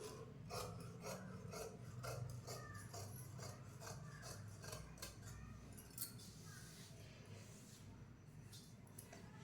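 Scissors cut through fabric along the marked back piece of a garment being tailored, giving a close, steady run of rasping snips and rubbing strokes with no talking.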